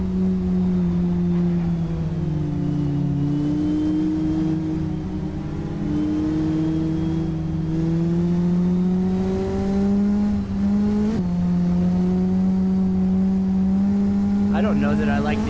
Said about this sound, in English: I don't know that I like the engine sound on this car.